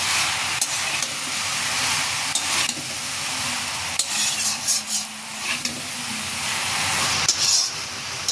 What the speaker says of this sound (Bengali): এখন শাকগুলো পেঁয়াজ, মরিচ ও রসুনের সাথে ভালো করে মিশিয়ে নেব।